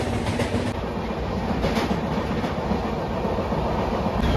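Inside a moving passenger train on the Mumbai to Gujarat route, a steady loud rattle and rumble of wheels on track fills the space continuously, with no talking.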